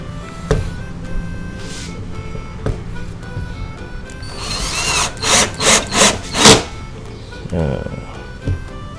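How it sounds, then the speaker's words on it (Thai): A cordless drill drives screws into plywood in short bursts, the motor whining up several times in quick succession, with softer handling knocks and taps between. "สกูธรรมดาก่อน สองขนาดลองเจาะไม้อัดตัวนี้เลยนะครับ"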